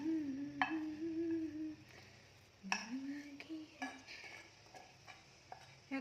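Spicy Korean noodles are scooped from a pan onto a plate with soft scrapes and light metallic clinks of a utensil, quiet and close, while a voice hums a tune in the background.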